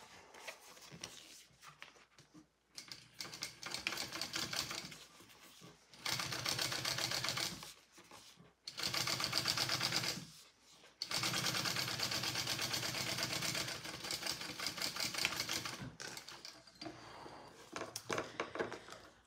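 Sewing machine top stitching a crossbody bag with self-adhesive woven interfacing on the back piece, running in several steady buzzing bursts separated by short pauses, close and fairly loud.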